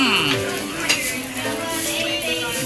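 Teriyaki beef sizzling on a hot plate at a sushi restaurant, a steady crackling hiss throughout, with clinking and background restaurant chatter over it.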